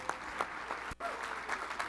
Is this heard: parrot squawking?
no